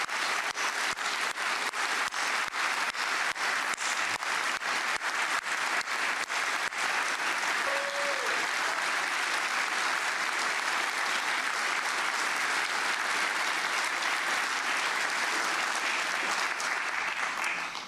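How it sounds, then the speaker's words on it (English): A large audience at a formal awards ceremony gives sustained, dense applause, steady and even throughout with many hands clapping at a moderate distance. "Big round of applause."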